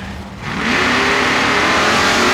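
A Ford Mustang and a Chevy Camaro launch side by side down the quarter mile at a dragstrip, their engines swelling into a loud sustained roar that builds and holds.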